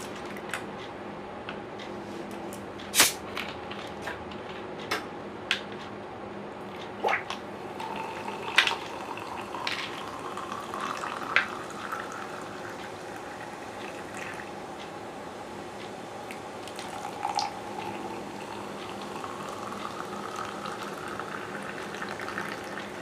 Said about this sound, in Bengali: এরপরে আমি এর মধ্যে এই সোডাটা দিয়ে দিচ্ছি